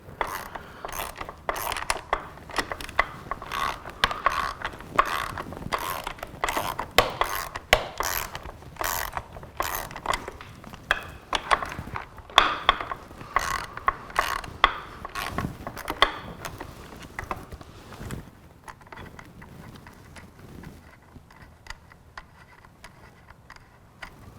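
Ratchet turning a 10mm socket on front fairing bolts of a BMW S1000RR motorcycle, a long series of close, rapid clicking bursts with short pauses, fading to lighter handling noise near the end.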